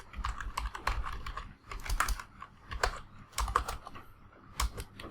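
Someone types code on a computer keyboard, with close, crisp keystrokes falling in quick irregular bursts separated by short pauses, with no voices.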